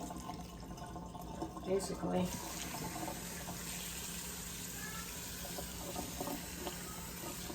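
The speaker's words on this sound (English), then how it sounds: "I want to run my pasta in cold water to stop it from cooking" Cold tap water runs steadily over cooked orzo pasta in a sink, a soft continuous splashing hiss that sits beneath a person talking close by.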